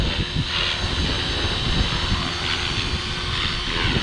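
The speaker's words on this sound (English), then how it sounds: "this is a good flying helicopter, a really good flying helicopter" A Walkera 450V RC helicopter flying in wind, a steady whirring rotor and motor drone with a breathy, gusty rush, continuous and moderately loud with no voices.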